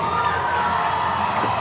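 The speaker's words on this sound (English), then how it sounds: "Crowd is going crazy out there." Loud, dense crowd cheering and shouting at a USA Powerlifting regional meet, a steady roar of many voices sustained throughout without a break.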